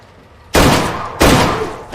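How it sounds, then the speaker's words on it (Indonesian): Two loud gunshots ring out in a film scene, the first near half a second in and the second just past one second, each a sharp blast that hangs and decays briefly. "Tiba-tiba si pengawal langsung melepaskan tembakan tepat ke kepala mereka"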